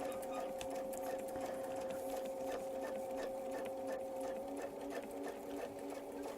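A sewing machine stitches a honeycomb quilting template, its motor whirring steadily and close up with a fast, even needle rhythm that runs unbroken throughout, with no one speaking.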